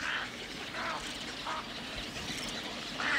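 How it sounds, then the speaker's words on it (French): Hoarse, croaking calls of a heron in the Brenne wetlands, repeated about four times at a steady, unhurried pace against a constant outdoor background hiss, moderately distant with no talking. "le cri assez rauque du héron, le croc, un son un peu comme ça"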